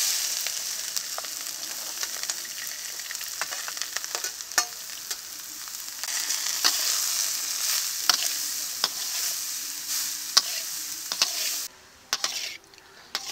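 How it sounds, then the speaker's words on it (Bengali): Grated carrots fry in ghee with cardamom, cashews and raisins in a kadai for carrot halwa, a continuous soft sizzle broken by frequent scraping and stirring clicks from a spoon, heard up close. "এখন গাজরটাকে ভালো করে ভেজে নেব।"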